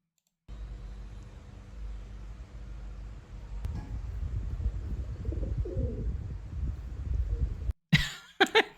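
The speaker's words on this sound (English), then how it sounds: "Oh, it's a pigeon." A white pigeon coos softly outdoors over a steady background hum, with a few sharp clicks at the end.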